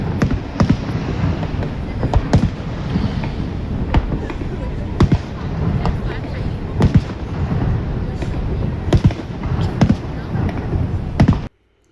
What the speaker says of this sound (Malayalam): നൈറ്റ് ടൈം ആകുമ്പോഴേക്കും ഒരു സമ്മർ ഫയർ വർക്ക്സ് ഒക്കെ ഉണ്ട്